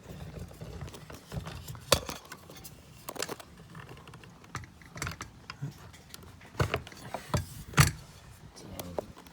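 Metal studs of an outdoor light fixture being worked through the holes of a mounting plate give scattered clicks, taps and scraping knocks at close range over a quiet background, with no voices.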